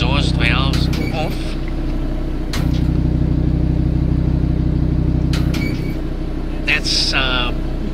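A steady, low engine drone from a 2018 Audi TT RS exhaust with valves closed in comfort mode, fairly subdued and even, with a few brief clicks and bits of background noise over it.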